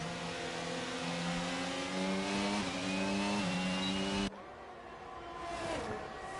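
A Red Bull Formula race car with DRS open screams past at the Hungaroring in Hungary, a steady high engine whine with rising pitch that cuts off sharply as it passes, leaving quieter engine noise from distant cars.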